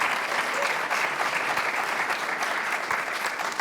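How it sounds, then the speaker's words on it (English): Steady, dense audience applause at a law school moot court competition event, continuous and evenly loud throughout with no voices over it. "Let's give her a round of applause as well."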